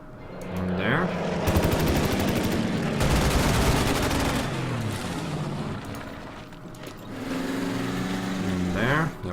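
Gunfire from units in the Order of Battle wargame set at Tobruk during a sandstorm, dense crackling bursts mixed with droning engine tones, loud and continuous.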